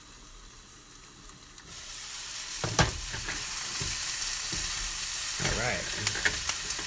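Vegetables hiss and crackle in a hot pan as they char, the sizzle rising sharply partway through and joined by repeated scraping stirs, with a brief spoken word near the start.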